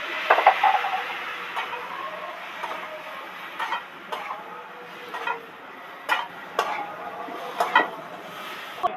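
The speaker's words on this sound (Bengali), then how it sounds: "ভালো করে নেড়ে চেড়ে মিশিয়ে দেবো" A spoon scrapes and knocks around a cooking pot of elephant foot yam with cumin, coriander, chilli powder and a little water, in irregular strokes, close by, over a soft simmering sizzle.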